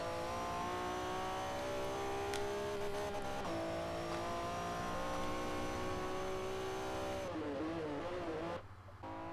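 Car engine in Forza 4 held at a steady high whine while driven with a manual clutch, then a quick dip and climb in pitch as the gear changes, and a brief cut near the end.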